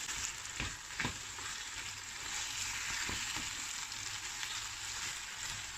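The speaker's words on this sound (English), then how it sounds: "Now stir it well. so that all the mango pieces will be coated with the spices and oil." Diced mango pickle being stirred in hot oil and spices, a steady close sizzle with a few soft scrapes of the spoon against the pan.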